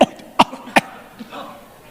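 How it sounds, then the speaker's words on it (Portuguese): Three sharp, separate coughs in quick succession during a voice exercise, each one short and close, followed by faint breathy throat sounds and quiet room noise. "Conta até 10 tossindo."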